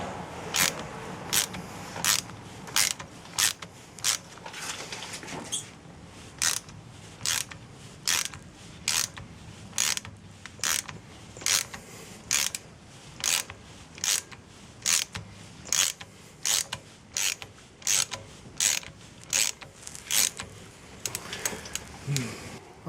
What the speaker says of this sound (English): compressing this piston actually gave us a little bit of trouble